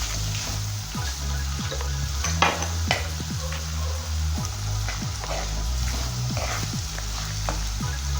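Onions sizzle and fry in a pan with ginger and garlic for a pepper chicken, a steady close hiss broken by repeated scraping stirs of a spoon against the pan.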